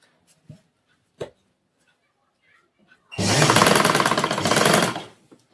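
A normal home sewing machine runs a quick burst of stitches over the cord while attaching thread piping at a neckline, loud and close for about two seconds after a few soft taps and handling noises.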